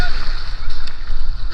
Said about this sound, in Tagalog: Uy, may malaking alon.